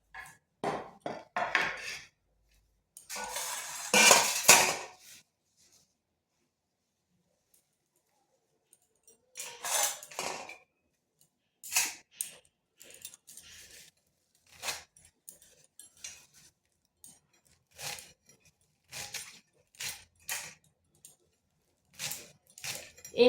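A knife chops fenugreek (methi) leaves on a board, first in a dense burst of quick strokes and then in sparse, separate taps with pauses between them. The sound is close and fairly quiet, and nobody speaks.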